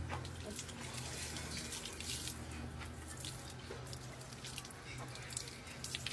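Water runs steadily from a tap with a soft, continuous splashing hiss, moderately close, with faint sounds of activity underneath.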